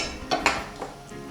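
A metal pan set down on a kitchen stove, giving two quick clanking knocks close by, then a few fainter metallic taps against a quiet background.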